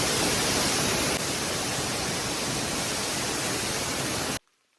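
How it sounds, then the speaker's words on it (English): Waterfall along the Bartram Trail on a solo thru-hike, a dense, steady roar of rushing water close by and loud throughout, cutting off abruptly near the end with no voices. "There's a nice looking waterfall."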